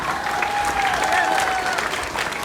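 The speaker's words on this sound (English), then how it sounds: "We should all stand and clap for such a luminary like a Dr." A graduation-day audience at Al-Ameen College gives a standing ovation for Dr. Mumtaz Ahmed Khan, a dense, continuous wash of clapping that fills the hall at steady loudness, with a faint voice mixed into the crowd.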